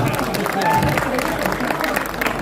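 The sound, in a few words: audience applause at a poetry recital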